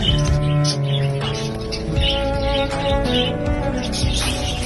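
Pet budgie parakeets chirp and twitter continuously, a busy overlapping chatter of small bird calls close by with a steady low background hum.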